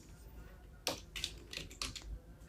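Typing on a computer keyboard to delete an Excel formula, heard as a few faint, crisp key taps and a short burst of presses in quiet, close surroundings with no speech.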